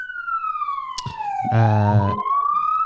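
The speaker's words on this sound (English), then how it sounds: "the sirens are always going off near your place" An emergency vehicle siren wails outside with a steady falling then rising tone, joined midway by a loud low blaring horn blast, fairly close and with no talk over it.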